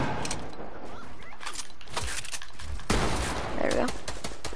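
Video game gunfire, a dense stream of rapid shots and bursts crackling throughout, loud and close, with a voice talking over it.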